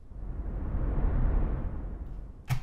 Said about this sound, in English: And then we have this swell sound